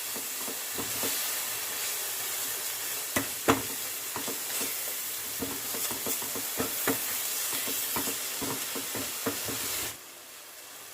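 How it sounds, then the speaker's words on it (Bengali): Ground coriander and Kashmiri chilli powder sautéing with a splash of water in a pan: a dense, continuous hissing sizzle broken by frequent scraping stir strokes, close up, cutting off abruptly near the end. "এবার সব মশলাগুলো ভালো করে কষে নেব।"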